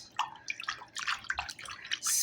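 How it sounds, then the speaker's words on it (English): Potatoes being washed by hand in water, with brief splashy sloshing and dripping bursts close by over a couple of seconds, no talking. "washing the potatoes."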